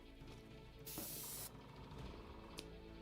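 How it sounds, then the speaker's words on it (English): A heavy spray can releases one loud, hissing burst of about half a second, alone over a quiet background, followed by a short faint puff. "I'm going to do a heavy amount of spraying"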